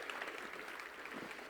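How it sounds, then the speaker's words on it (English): Audience applause for a speaker at the HackConf developer conference: a dense, steady patter of clapping hands that holds at an even level throughout, with no voices breaking through. "please a big round of applause for Adasha"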